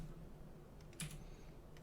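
Quick keyboard typing on a computer, a short cluster of key clicks near the one-second mark over a low steady room hum, close and fairly faint, no talking.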